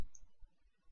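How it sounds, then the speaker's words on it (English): A single quiet computer mouse click, crisp and close, made while working in Adobe Illustrator, followed by near silence. "Now click on the gradient tool and click on the object"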